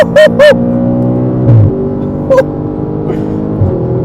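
An Audi RS5 V8 with a muffler-delete exhaust revs hard, loud and close, with sharp throttle blips early on and a deep rumbling idle between rises in engine pitch.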